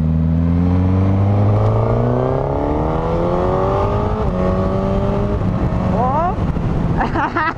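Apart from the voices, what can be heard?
Suzuki GSX-S1000 four-cylinder motorcycle accelerating with quickshifter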